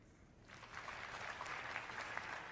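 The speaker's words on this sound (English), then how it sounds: "Less claps from that one." Audience applause at a talk or speech breaks out after a brief pause, a modest burst of clapping that holds steady for about two seconds at moderate loudness with no voices over it.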